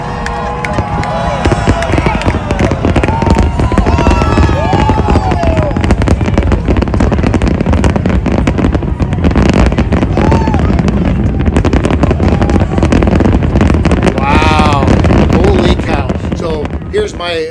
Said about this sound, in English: Here's how I would describe this fireworks display.